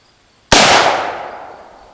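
A single sharp pistol shot from a 1911 cracks out close and loud, then rings and decays over about a second and a half.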